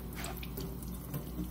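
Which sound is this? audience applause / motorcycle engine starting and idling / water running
water running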